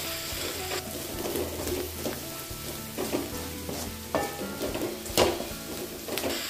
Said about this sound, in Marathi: 1-2 चमचे लाल तिखट आणि चवीपुरते मीठ। हे सर्व चांगले परतून घेऊयात।